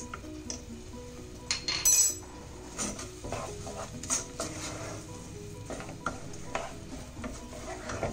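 Barnyard millet sautéed in ghee, stirred with a metal spoon that clinks and scrapes against the pan in irregular strokes under a soft, faint sizzle.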